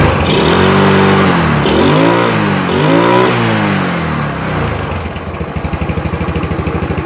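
A motorcycle engine fitted with a modified full-wave DC regulator revs hard up close, loud rising and falling sweeps of throttle that settle into a steady, rhythmic idle thump near the end, with no voices.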